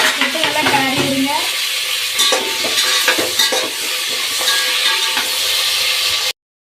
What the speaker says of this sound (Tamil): கத்திரிக்காய் போட்டுக்கலாம். காம்போட வெட்டி வச்சுருக்கு அப்படியே போட்டுடலாம். போட்டு நல்லா கிளறி விடுங்க.